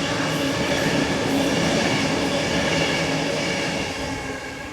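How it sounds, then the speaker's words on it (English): A train departs Stanmore station on Sydney's main line, with a loud, steady rumble of wheels and rail noise close by that eases slightly toward the end. "There goes the train out to Richmond."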